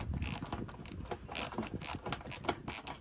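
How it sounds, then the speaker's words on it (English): A small hand ratchet turning a bolt into an existing hole on an Alpine RV slideout hydraulic cylinder, heard as a steady run of rapid, fairly faint clicks over close working noise, with no one talking. "just using a small ratchet here. I just want to get it threaded so it'll hold it"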